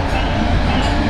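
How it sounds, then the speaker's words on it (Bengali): Teesta Torsa Express train rolling out of Sealdah station, a steady loud rumble of wheels and carriages, constant throughout with no voices. "ফাইনালি আমাদের গাড়ি ছেড়ে দিয়েছে শিয়ালদা স্টেশনের 12 নম্বর প্ল্যাটফর্ম থেকে।"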